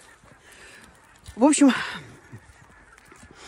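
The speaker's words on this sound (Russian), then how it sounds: "О, видите, сколько гусей? Вот это все гуси." A flock of geese in a field near a former dacha cooperative in Estonia gives a short burst of loud honking calls at middle distance. Someone speaks briefly nearby.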